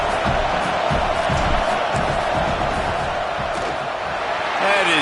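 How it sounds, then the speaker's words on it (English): A dense, roaring football stadium crowd noise building during a field goal attempt, loud and continuous with whistles and shouts mixed into the wall of sound, rising slightly near the end. "This crowd trying to do its part to get inside the kicker's head."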